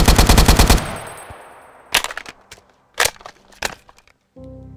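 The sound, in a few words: AK rifle gunfire in a Minecraft Bedrock mod video game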